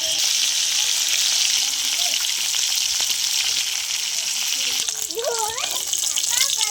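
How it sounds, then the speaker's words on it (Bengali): Koi fish rubbed with turmeric and salt fry in hot oil in a wok, a loud steady sizzle with bubbling crackle, joined near the end by a few brief chirping background sounds. "তো মাছগুলো আমি ভেজে নেব।"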